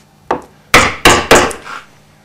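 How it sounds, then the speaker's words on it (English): A carving gouge is driven into elm wood in five sharp, close knocks, the first one alone and the last four in quick succession, with no talking. "Just going to choose what gouge to use. So again, it's the centre cut and then stop the splits running."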